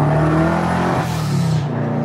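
A VW Beetle fitted with a turbocharged Subaru EJ22 engine pulls hard in second gear, a loud, close, droning exhaust note whose pitch climbs steadily before easing off near the end.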